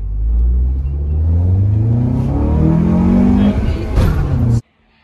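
A Honda Accord Euro CL9 fitted with an Injen short ram intake drives along, its engine droning steadily and rising as it accelerates, loud and close, before cutting off abruptly near the end.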